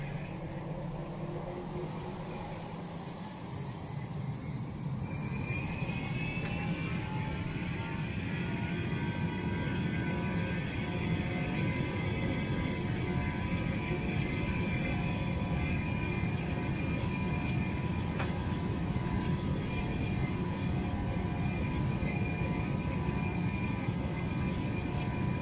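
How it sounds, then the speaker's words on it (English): Aircraft engines held at maximum takeoff power during a takeoff roll: a steady, loud, continuous roar with a rising whine early on, no talk over it. "Maximum takeoff power."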